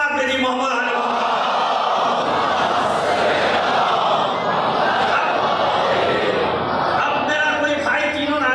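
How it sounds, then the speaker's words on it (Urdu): A large mosque congregation at a Shia majlis loudly chants salawat in unison, a dense sustained wall of massed voices filling the hall at constant volume for several seconds. "مومنین، مسلمین اور اس ملک کی سربلندی کے لیے بلند آواز سے صلوات بھیجی"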